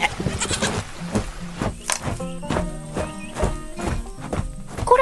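A cute white goat in an animated farm scene bleats over a cartoon backdrop of light clip-clop steps and music-like tones, fairly loud and near.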